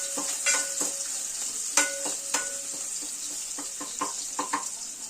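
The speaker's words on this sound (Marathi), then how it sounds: "लसूण आणि मिरची आपण तेलावर मस्त असं मारून घेऊया" Garlic and chili sizzle in hot oil in a pan for a Koli-Agri style wet bombil curry, with steady frying crackle and a few sharp stirring knocks and clinks close by.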